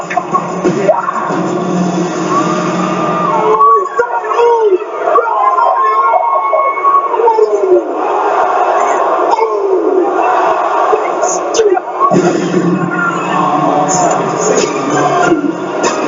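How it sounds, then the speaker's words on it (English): Wrestling arena crowd at Extreme Rules 2016 booing the Usos before a tornado tag match against The Club, a loud sustained roar of jeers and shouting that swells and dips throughout. "The Usos are getting booed out the building."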